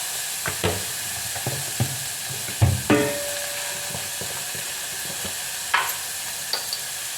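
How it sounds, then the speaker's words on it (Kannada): Carrots and other vegetables sizzle steadily in a pan while being stirred, with scattered scraping and knocking of the utensil against the pan and no speech. "ಕ್ಯಾರೆಟು ಸ್ವಲ್ಪ ಜಾಸ್ತಿನೇ ವೆಜಿಟೇಬಲ್ ಹಾಕಿಬಿಟ್ಟು ಇವತ್ತು ಮಾಡ್ಕೊಳ್ತಾ ಇದ್ದೀನಿ. ಸ್ವಲ್ಪ ಬಾಡಿಸಿಬಿಟ್ಟು"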